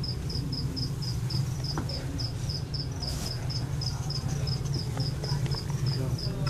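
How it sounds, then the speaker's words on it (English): Crickets chirp in a steady, evenly spaced rhythm over a low background hum at Prospect Park Zoo, with a few faint clicks and knocks. "Crickets chirping."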